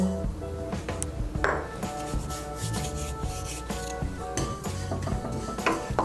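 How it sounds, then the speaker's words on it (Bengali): Sesame seeds dry-roasting in a wok, heard as continuous scraping and rubbing of a spatula against the metal with light metallic clinks throughout, no voices. "কড়াই বসিয়েছি, প্রথমে আমি তিলটাকে শুকনো খোলায় একটু ভেজে নেব।"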